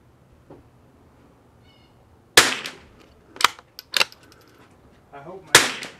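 Rifle shots at an outdoor shooting range with rimfire and precision rifles such as Tikka, Vudoo, CZ452 and Anschutz: four sharp, loud, close cracks spaced irregularly, with brief faint talking in between.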